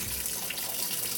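Pressurized water jet from the hidden spray-rinse nozzle of a GE GTW680BS6JWS top-load washing machine during a delicate cycle, a steady close hiss of spraying water running without pause.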